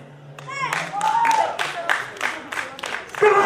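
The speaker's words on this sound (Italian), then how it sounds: "facciamo un bel applauso al festeggiato" An audience claps rhythmically in sharp, evenly spaced bursts after a magician's card trick, with voices calling out over the clapping.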